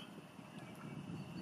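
Wind blows across Pickmere lake in a steady, broad rushing that buffets the microphone and holds at an even, moderately loud level for the whole stretch.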